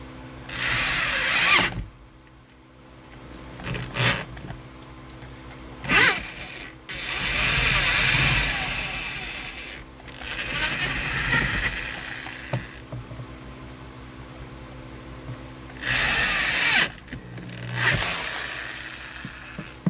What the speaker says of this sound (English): Be very careful when you're drilling this stuff.